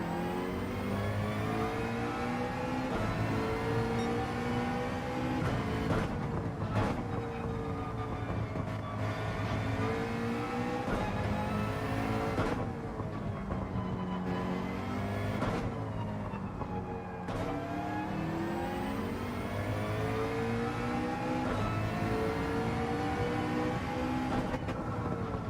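A McLaren race car engine in Gran Turismo 7, droning steadily with rising and falling pitch as it revs through gear changes and corners, loud and continuous with no talk.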